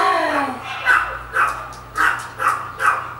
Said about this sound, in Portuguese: os cachorros não param!